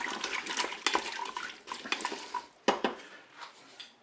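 Carrots and chicken being stirred in a Cookeo electric pressure cooker pot, giving a run of close scraping and clinking spoon strokes against the metal, with irregular louder knocks and no speech.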